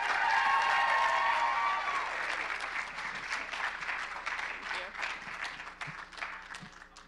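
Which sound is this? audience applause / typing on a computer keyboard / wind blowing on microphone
audience applause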